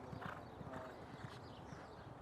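Racehorse hooves thud on the Churchill Downs track, a quick, rhythmic clip-clop passing at moderate distance, soft and muffled under outdoor background noise.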